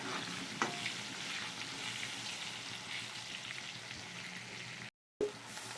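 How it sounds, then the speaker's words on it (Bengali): Potatoes fry in oil with dried red chillies, bay leaf and whole cumin, a soft continuous sizzle with occasional stirring and a short break near the end. "দিয়ে দিচ্ছি আলুগুলো দিয়ে আমি আলুটাকে ভেজে নেব সুন্দর করে লাল করে"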